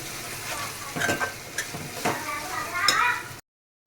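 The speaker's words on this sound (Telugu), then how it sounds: "అల్లం వెల్లుల్లి పేస్ట్ లైట్గా ఫ్రై అవ్వాలి" Ginger garlic paste fries in a pan for prawn curry, giving a steady close sizzle broken by scraping stir strokes, then cutting off abruptly near the end.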